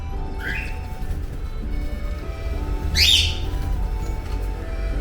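Two short bird chirps, one faint and one louder and nearer, rise sharply over a quiet low hum.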